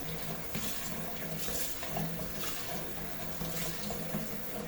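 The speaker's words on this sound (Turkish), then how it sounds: "Şimdi soğuk su bölümünü açıyoruz bak." Cold water runs from a kitchen tap in a steady, soft splashing stream, fairly quiet and close, with no talking.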